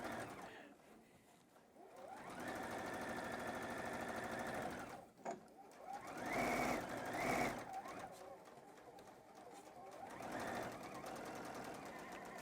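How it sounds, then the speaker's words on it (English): A sewing machine back stitches the edges of an apron, running in long steady bursts of rapid stitching broken by short pauses and a brief clatter, loud and close with no voices. "Again, back stitching to secure."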